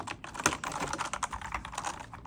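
Rapid, steady typing on a Monster Pusat K3 Pro keyboard, close and fairly loud. Keystrokes click in quick succession with a few sharper strikes, and no voices.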